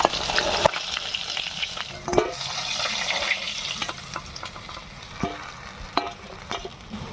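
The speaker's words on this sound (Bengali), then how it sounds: "এইভাবে আমি মাছ কটা ভেজে নেব।" Mirgel fish frying in oil, a close, steady sizzle with scattered louder pops and scraping knocks of a utensil against the pan.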